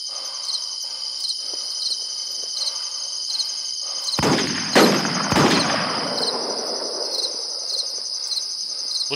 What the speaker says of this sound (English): Who's shooting a pistol?